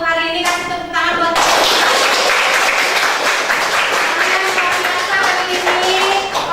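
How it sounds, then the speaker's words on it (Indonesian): A classroom group claps together at the close of a lesson, loud sustained applause from many hands, preceded by a brief voice. "kasih tepuk tangan buat"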